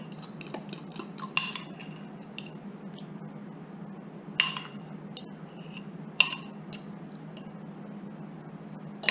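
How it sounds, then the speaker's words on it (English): A parsley and arugula mixture spooned into an oven-safe dish: quiet, sparse metallic clinks of a utensil against the dish, with three sharper knocks spaced a few seconds apart. "Put this in to a nice oven safe dish."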